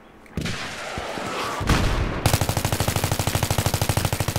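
Battlefield 3 gunfire: a few scattered shots and a heavy boom, then a rapid, evenly spaced burst of automatic fire rattling loudly for the last two seconds.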